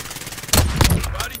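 Gunfire in the Warzone battle royale game: a dense burst of rapid shots breaks in abruptly after a short quiet stretch and keeps rattling close and loud, with a voice speaking over part of it.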